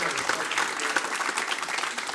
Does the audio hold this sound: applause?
yes